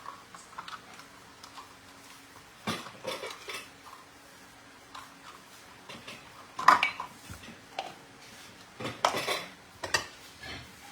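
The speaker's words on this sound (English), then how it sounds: "So she's mixing the dry things together." Dry ingredients are stirred into flour in a bowl for cabbage bread, with irregular scraping, tapping and clinking of a utensil against the bowl, close and fairly quiet.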